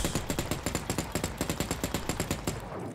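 Rapid automatic gunfire in the video game The Cycle: Frontier: a long, fast, evenly paced burst of loud shots close by, running almost the whole time before cutting off near the end.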